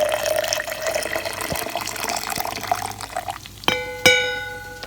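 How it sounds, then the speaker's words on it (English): Coffee pours steadily into a cup with a gurgling stream, followed by two sharp ringing clinks of glass or ceramic near the end. "I'm gonna pour the rest here where I'm going to make my cold coffee."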